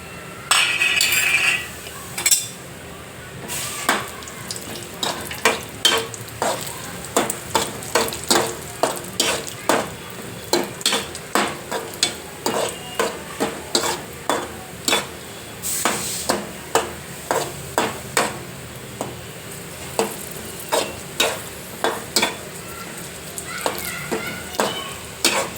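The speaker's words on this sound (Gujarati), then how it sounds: "પેલા તેલ મૂકીને કાજુ તળી નાખ્યા" Cashews fry in hot oil while a utensil stirs them, giving a steady sizzle and a rhythmic run of sharp scraping clinks against the pan, roughly two per second, close and loud.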